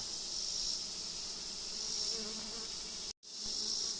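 A steady, dense buzz of many honeybees close by at an open hive during inspection, continuous and unbroken except for one brief dropout near the end.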